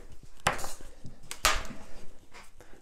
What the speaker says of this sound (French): ça c'est le micro qui tape contre la table métallique